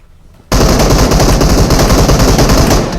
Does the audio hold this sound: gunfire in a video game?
yes